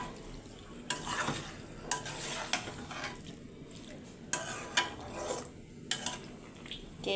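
Lentil dumplings (bori) are stirred and sautéed in a pan, with a steady oily sizzle broken by repeated scrapes and clinks of the spatula against the metal, close and moderately loud with no talking.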